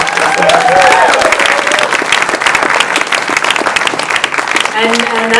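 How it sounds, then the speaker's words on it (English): Audience applause and cheering at a summer pioneering program demo event, honoring 30 students across nine teams; a loud, sustained crowd sound with voices calling out over the clapping. "a giant round of applause for all of you guys and all of your hard work"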